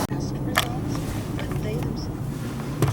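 A car driving through a downtown street in the middle of the day during a coronavirus lockdown, with steady road rumble and faint passing noises and a few sharp clicks.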